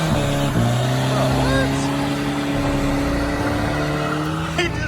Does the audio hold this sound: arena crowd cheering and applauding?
no